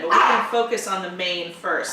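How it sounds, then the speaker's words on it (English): A pet dog in a home studio gives short barks and yips that overlap with a person speaking nearby. "Sorry, that's my dog"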